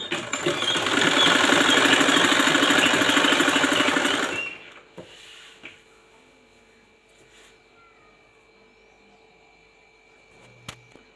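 A normal household sewing machine stitches a fall onto a simple saree, running in a fast steady rattling burst for about four seconds close by, then stopping, leaving near silence with a few faint clicks.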